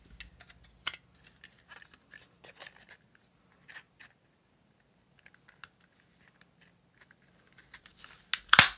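Scissors snip through paper for junk journal cut-outs, with sparse, quiet clicks and cuts separated by silence and a louder crinkling flurry at the very end.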